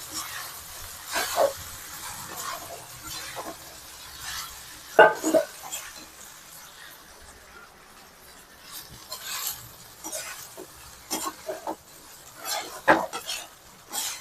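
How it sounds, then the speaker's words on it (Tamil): A spoon stirring a noi upma mixture of broken rice in a pan, intermittent scraping and clinking of utensil against metal, fairly close and moderately loud, with soft sizzling underneath. "இப்போ இதெல்லாம் போட்டு நம்ம கொஞ்சம் கொஞ்சமாக கலரிக்கலாம்"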